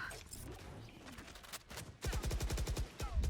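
Bursts of rapid gunfire from a tactical shooter video game round, with scattered shots and effects early on, then a loud, fast automatic volley of evenly spaced shots dominating the final second and a half.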